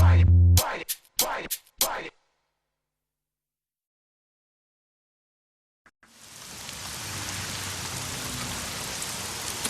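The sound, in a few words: rain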